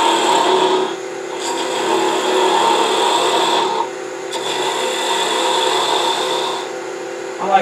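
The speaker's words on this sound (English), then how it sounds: "I'll just go ahead and use my spindle gouge. Turn the speed up a little bit." A wood lathe spinning a white piece of wood while a spindle gouge cuts it, giving a steady, continuous scraping whir with brief dips as the tool lifts and returns.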